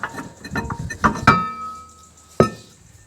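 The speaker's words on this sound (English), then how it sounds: "With that block of wood and a decent mallet, give it a bash in each side." Mallet blows on a wooden block against a rusted rear brake disc on a VT–VZ Holden Commodore: a handful of sharp, close knocks with a brief metallic ring, the loudest two spaced apart near the end.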